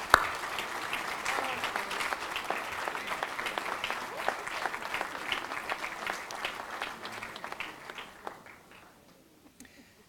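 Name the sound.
applause for hall of fame inductees at a banquet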